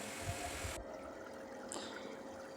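Liquid for the gravy is poured into a pan of egg curry, a soft, quiet rushing trickle that cuts off abruptly, followed by a faint low simmer with no talk.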